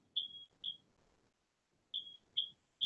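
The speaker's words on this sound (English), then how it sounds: "It's a fire alarm" A building fire alarm sounds in short piercing electronic beeps, two early and three more after a pause, fairly loud over faint room noise.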